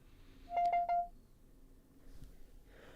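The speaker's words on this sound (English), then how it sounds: "3 little beeps in my headset? Beep, beep, beep. That might be a low battery warning." A VR headset gives a low battery warning: three short, clear electronic beeps in quick even succession, followed by faint background noise.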